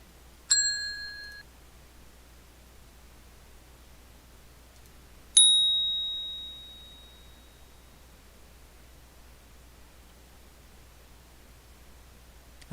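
Two high, clean bell dings sound over a faint steady hiss. The first is short and the second rings out and fades slowly, with a gap of a few seconds between them.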